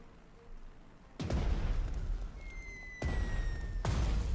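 A bomber drops incendiaries in the Panzer Strategy game, heard as a low rumble followed by two sharp, heavy booms that roll into sustained, loud explosive roaring.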